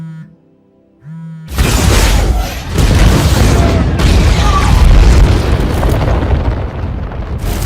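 A massive film explosion erupts after a brief quiet tone, a loud booming blast followed by several seconds of rumbling, crackling debris with further impacts.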